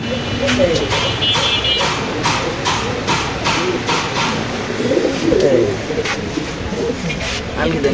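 Large black Mundian pigeons in cages at a pigeon market, soft repeated cooing heard under constant crowd chatter and shuffling, with a few close voices talking throughout.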